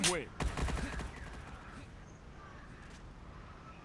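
Video game match gunfire: a quick burst of sharp shots at the start, then fainter scattered pops and clicks under a low background hum.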